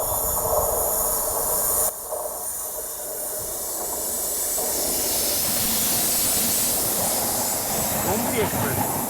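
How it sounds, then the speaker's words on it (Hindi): The Gomti Express approaches along the line past a standing Patna–New Delhi special train, a steady rumbling hiss and rising wheel noise that swells louder toward the end. "सामने से गोमती एक्सप्रेस जो है वो आ रही है"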